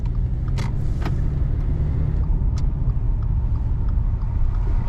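A car drives along a road after refuelling, heard from inside as a steady, loud engine and road rumble that holds even throughout, with a few faint clicks on top.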